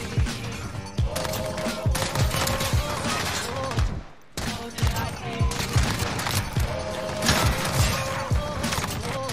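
Rapid bursts of automatic gunfire from a weapon in Call of Duty Modern Warfare, loud and continuous with a brief pause midway, with a voice talking over the shooting.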